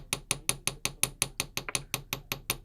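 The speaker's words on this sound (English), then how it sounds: "And you notice I'm hammering it flat." Jewelry wire is hammered flat in a quick, even run of about fourteen sharp metallic taps, close and clear with nothing else heard.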